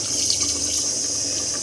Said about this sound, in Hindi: और डालो पानी डालो